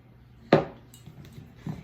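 A utensil knocks against a bowl while puff pastry dough is mixed, one distinct clack followed by a softer one, quiet and close with no talk.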